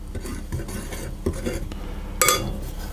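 Soda bread flours are mixed in a bowl, with soft scraping and clinks of a utensil against the bowl and a louder clatter near the end.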